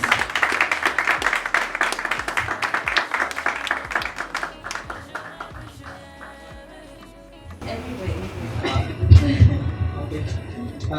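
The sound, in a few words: audience applause for the speaker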